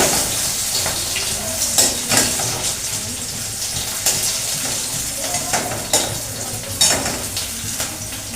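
Thin-cut potatoes fry in mustard oil already used for fish, making a continuous close sizzle with repeated scraping stirs of a spatula in the pan, and no one talks.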